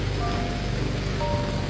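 Heavy rain pours onto a city sidewalk in a dense, constant hiss of drops hitting pavement, steady and fairly close with no break.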